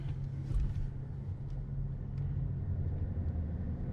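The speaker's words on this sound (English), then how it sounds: "we are setting off in the 2019 Chevy" A 2019 Chevrolet Silverado RST pickup truck drives along with a steady low engine and road rumble heard from inside the cab, continuous and even, with no talk.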